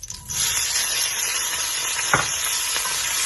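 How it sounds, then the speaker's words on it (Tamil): Boiled potatoes sauté in oil with cumin, fennel and curry leaves, giving a steady close sizzle with a couple of brief scraping stirs partway through. "எண்ணெயில லைட்டா ஃபர்ஸ்ட் சாட்டே பண்ணிக்கிறேன்"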